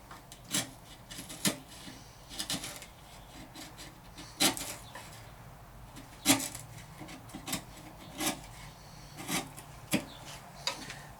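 A sharp chisel pares wood on a guitar headstock, giving about a dozen short, crisp scraping strokes at an uneven pace, close and fairly quiet, with brief pauses between cuts.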